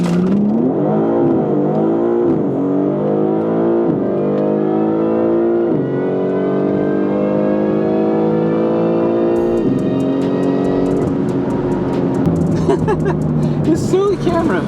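A BMW G80 M3 launches on a drag run with wheel spin, its engine climbing through the gears in rising revving sweeps with brief shift dips, loud and close, followed by a crackling, buzzy burst near the end.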